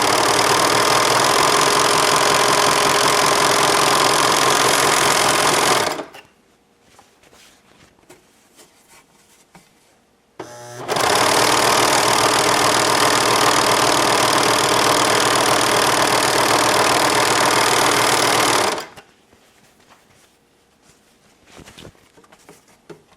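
A serger sewing machine running three threads through one needle stitches fabric in two long, loud, steady bursts of rapid whirring, separated and followed by quiet pauses with faint handling noise.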